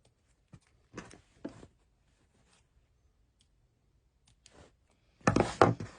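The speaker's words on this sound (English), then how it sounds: "Just cut off the threads at the back." Scissors snip loose threads at the back of a sewn, lined scrub cap: a few short, separate clicks and rustles close by, then a louder burst of snipping and fabric handling at the end.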